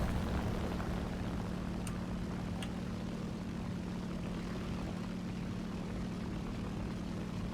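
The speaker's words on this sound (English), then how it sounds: "he's driving a Fokker" A Fokker propeller plane flies in a video game, its engine a steady, unbroken droning hum that fills the whole stretch at even loudness.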